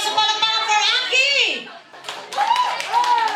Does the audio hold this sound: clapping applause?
yes